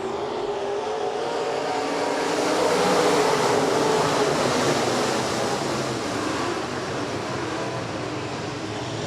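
Race cars roar together at a dirt speedway during a hobby stock and B-mod feature under green flag racing, a dense continuous engine drone that swells slightly midway and stays loud throughout.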